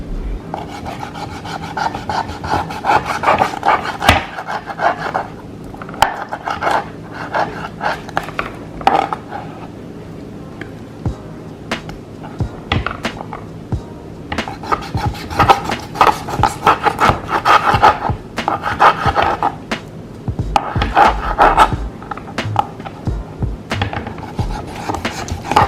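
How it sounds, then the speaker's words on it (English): A knife slices through raw chicken wings, cutting them in two and trimming the tips, giving repeated scraping, rasping strokes against a board in irregular bursts, close and fairly loud with no talking. "Now I'm cutting my chicken wings in two."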